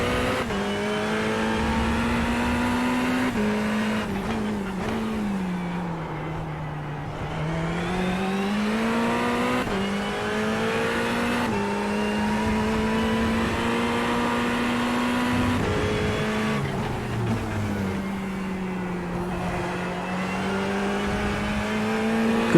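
Ferrari 488 GT3 Evo race car in iRacing at Interlagos, engine droning steadily and rising in pitch as it accelerates through gears, loud and continuous with no talk.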